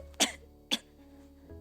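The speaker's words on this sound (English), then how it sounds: "Hold on, coughing." Two sharp coughs, close and loud, spaced about half a second apart, followed by quiet.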